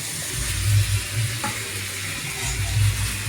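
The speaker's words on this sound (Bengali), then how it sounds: "এবারে মাংসটা কষা হবে।" Mutton sizzles and fries in hot oil in a pan as it is stirred, a steady crackling hiss with soft scraping, no voices.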